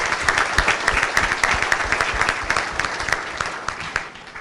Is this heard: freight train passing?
no